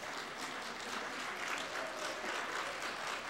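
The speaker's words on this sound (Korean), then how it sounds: "다시 한번 박수 올리시죠." A church congregation applauds for the choir with steady, even clapping that holds at a constant level throughout, heard alone without talk.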